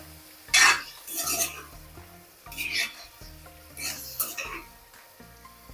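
Tomatoes stirred in a pan sound as bursts of scraping and clinking from a utensil, several separate strokes over a faint sizzle, close by and moderately loud, with a little background hum between the strokes.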